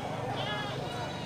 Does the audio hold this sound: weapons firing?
no